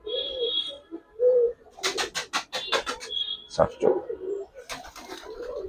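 Young Giribaz and coloring pigeons on a farm coo in soft, low murmurs, with someone talking over them and a dog's barks cutting in at intervals.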